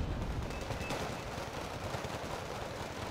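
Dense battle gunfire from the strategy game Wargame Red Dragon, with a BMP-1D firing its guns amid continuous overlapping shots and explosions, steady and loud throughout with no talk.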